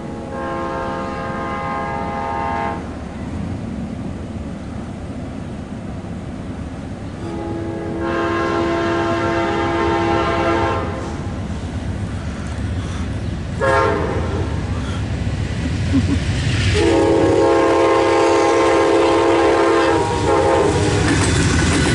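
An eastbound Amtrak train led by locomotive 147 passes close by, its horn blaring in several long blasts over a steady rumble of wheels and cars.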